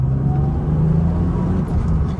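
BMW Z3 roadster engine droning steadily up close, a loud continuous low rumble with a faint whir above it, heard on its own.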